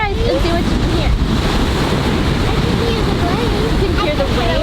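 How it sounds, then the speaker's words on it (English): Ocean surf breaking steadily on a sandy California state beach, a continuous close wash of waves with wind buffeting the microphone throughout, faint voices audible beneath. "I can hear the waves."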